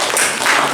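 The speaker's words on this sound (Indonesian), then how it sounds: "Baiklah, tepuk tangan dulu nomor 1." Students in a classroom clap their hands in a brief, loud burst of dense clapping that holds steady to the end.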